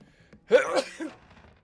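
A single short, sharp sneeze from a person nearby, a quick burst lasting under a second and heard alone in a quiet setting.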